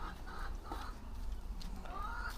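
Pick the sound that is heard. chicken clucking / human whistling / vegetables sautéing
chicken clucking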